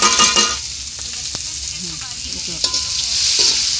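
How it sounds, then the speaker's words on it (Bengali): Oil sizzles and crackles in a pan while a utensil stirs for egg khichuri, loud and close with scraping strokes over the constant frying hiss. "আমি কিন্তু বুঝে দেবো আগে লাল লাল করে ভাজবো"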